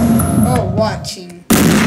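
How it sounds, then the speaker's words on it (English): White fireworks burst in the video game Garry's Mod, a sudden loud broadband explosion that follows a stretch of voices and game sounds. "You guys get to see white fireworks, guys."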